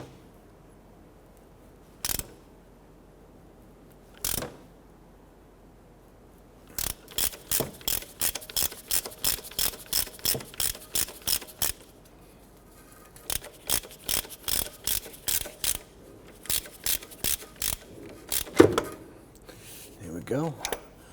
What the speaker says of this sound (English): Now we're using a puller tool here to go ahead and pull our harmonic balancer here.